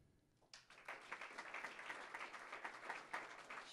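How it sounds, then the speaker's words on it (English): Audience applause at a city council meeting, starting abruptly after a quiet moment and continuing as steady, moderately distant clapping from a modest crowd. "round of applause for her"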